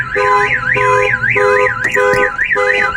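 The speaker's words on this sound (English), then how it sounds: "Alarm system goes off." A loud Viper 3105V truck alarm blares close by on a Ford Super Duty F350, a warbling electronic siren cycling rapidly up and down with a steady pulsing tone underneath.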